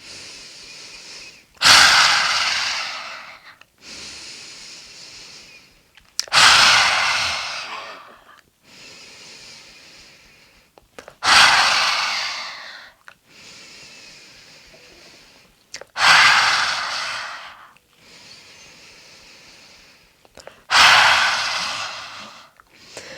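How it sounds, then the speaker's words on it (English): Five rounds of lion's breath yoga exhalations, each a forceful, throaty rush of air after a softer nasal inhale, evenly spaced and close, with no talking between them. "So 5 rounds of lion's breath. Inhale through the nose."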